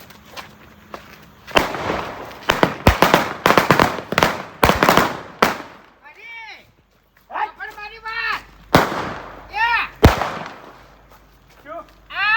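Firecrackers going off in a rapid cluster of loud, sharp bangs, followed by a pause and then a few more scattered blasts, with whistling, crackling bursts and some voices in between.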